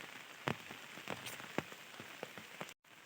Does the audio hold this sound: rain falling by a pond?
yes